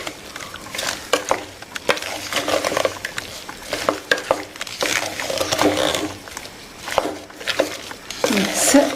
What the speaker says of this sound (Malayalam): നമുക്കിത് മിക്സ് ചെയ്യാം